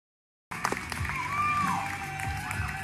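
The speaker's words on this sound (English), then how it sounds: "Ladies and gentlemen, keep that applause going." An audience applauds and cheers in a sustained, fairly distant wash of clapping with scattered shouts, starting abruptly after a brief silence.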